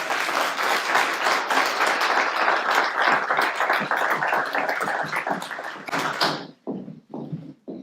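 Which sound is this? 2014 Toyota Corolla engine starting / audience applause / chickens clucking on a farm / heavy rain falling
audience applause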